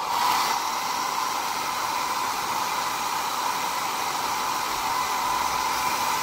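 A hair dryer blows hot air onto a rigid white resin 3D-printed part, producing a steady, loud broadband whoosh with a constant motor hum throughout, with no talking.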